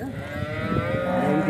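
A cow gives one long, close moo at the Punganur cattle market, rising and holding steady for the whole moment.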